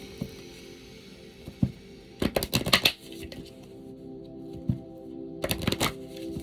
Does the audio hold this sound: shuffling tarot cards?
yes